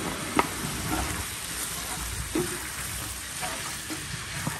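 Eggs and tomato frying together in a village kitchen pan, a continuous close sizzle broken by a few stirring knocks, with no talk over it.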